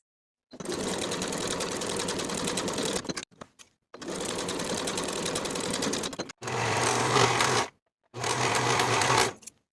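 A sewing machine stitches pajama shoulder seams in four close, loud bursts of rapid mechanical stitching, each a few seconds long and split by brief pauses, with no voices.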